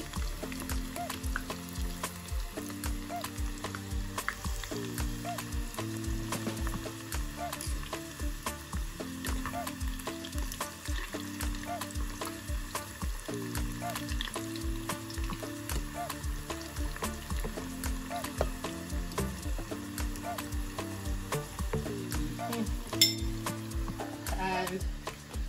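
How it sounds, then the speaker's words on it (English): Steady sizzling of potatoes frying in a pan, with a repeating low hum and occasional clinks of utensils in the background, no talking. "I'm frying it a little bit."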